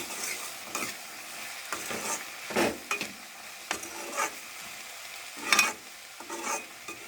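Brinjal with turmeric powder being stirred in a frying pan, a series of scraping spoon strokes spaced irregularly over a soft, steady sizzle, close by.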